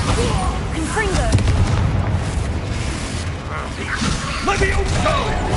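Explosive spells boom and burst in quick succession during a Hogwarts Legacy battle, with steady rumbling blasts under shouting voices.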